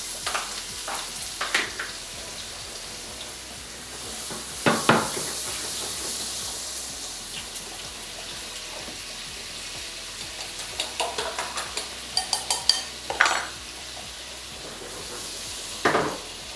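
Pieces of zander dipped in egg sizzle as they are laid into hot fat in a frying pan, a steady hiss broken by louder bursts and scattered clinks of utensils.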